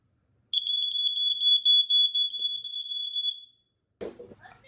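A large 1993 smoke alarm, model 7010B, shrieks with a loud, steady high-pitched tone for about three seconds during a test, followed by a short burst of handling noise.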